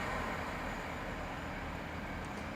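A Great Western Railway Class 165 diesel unit passes through Twyford station on the Great Western Main Line, a steady, fairly loud rumbling roar that holds at an even level throughout with no pause.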